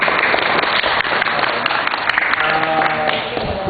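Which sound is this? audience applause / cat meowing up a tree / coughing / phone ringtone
audience applause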